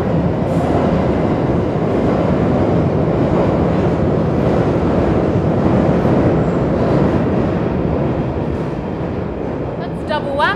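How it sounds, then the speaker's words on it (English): London Underground trains rumble near Stockwell Tube Station, a loud continuous low roar of rolling carriages filling the whole stretch, with brief squealing wheel noise near the end. "I can hear trains, so we should probably just be careful with light."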